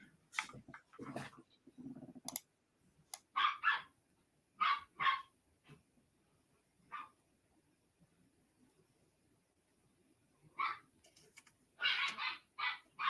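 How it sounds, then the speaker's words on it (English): Several dogs play at a home yard sale, letting out repeated bursts of barks and yips in irregular clusters, some close and loud, with quieter gaps and soft whimpers between them. "My dogs are playing in the background."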